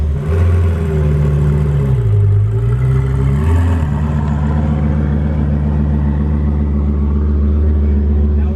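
A 2000-horsepower Lamborghini engine rumbles loud and steady as the rebuilt car drives, with a brief rise and fall in revs early on, then a sustained low drone close by.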